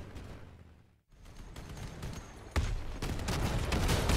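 Mandrake weapons fire in the vehicle combat game Crossout, a rapid barrage of blasts and impacts that swells in loudness, dips briefly into near silence, then returns heavier and denser.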